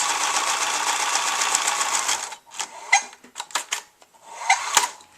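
Sewing machine stitching the end of a homemade cloth pad, a steady close whir for about two seconds, then short stop-start bursts of stitching as the seam is backstitched.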